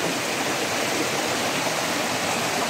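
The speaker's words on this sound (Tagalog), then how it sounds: "Sumisirit yung tubig, ang ganda" Water gushes steadily out of the rock inside a tunnel, a dense, continuous rushing roar that stays close and loud throughout, with no voices.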